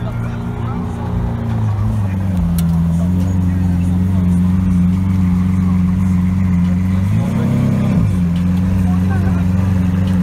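A grey Porsche GT3 Touring on a Paris street, its engine droning loudly and steadily, with a brief rise in pitch as it revs near the end, under background chatter.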